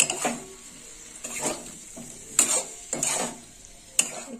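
A spoon stirs a tamarind sour dish made with elephant foot yam in a pan, giving about five rhythmic scraping strokes over a soft sizzle, close and moderately loud.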